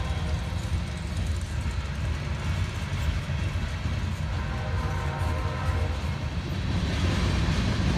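Long freight train with auto rack cars rolling steadily past at close range in Princeton, Indiana, a dense continuous rumble and rattle of wheels on rail that holds level throughout.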